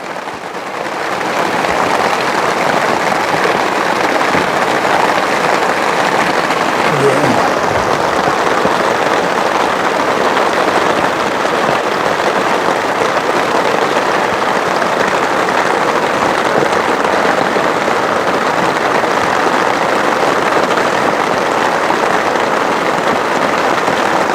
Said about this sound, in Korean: 이렇게 빗소리를 들으면서